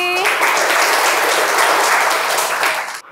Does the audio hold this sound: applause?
yes